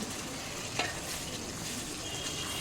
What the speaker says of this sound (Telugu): ఒక కప్పు కొత్తిమీర పుదీనా వేసాను వేసి బాగా కలుపుకొని